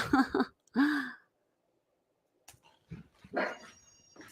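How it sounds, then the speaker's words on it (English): A dog gives a few sharp barks near the start, then after a quiet gap some softer whimpers and a louder bark-like burst follow, close by with no speech. "The dog's about to go berserk."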